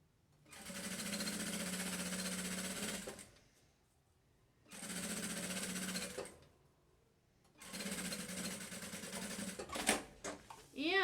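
A sewing machine stitches fabric for a party bag in three steady whirring runs of a few seconds each, separated by short pauses, close and moderately loud, with some handling clatter at the end.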